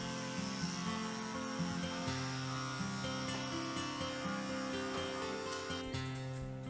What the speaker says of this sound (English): it's time for a head shave before the session begins